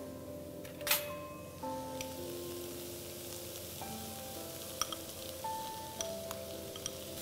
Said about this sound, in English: So let's give it a quick mix now. Let's add our crumb paneer in now.